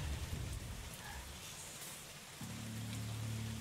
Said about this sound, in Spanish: estaba lloviendo a cántaro